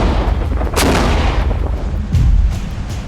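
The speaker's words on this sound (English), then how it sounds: "By lobbing explosives, you can test the snowpack's stability and preemptively trigger a controlled slide." An avalanche control gun fires explosives into the snowpack with a deep, booming blast and a long rolling rumble, then a second low thud follows about a second later.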